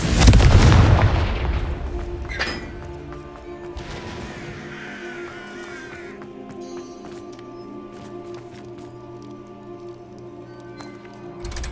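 A Confringo spell explosion in Hogwarts Legacy lands as a heavy booming blast at the start, then rumbling debris and crackling fade into a quieter ambient tail, with a smaller thump near the end.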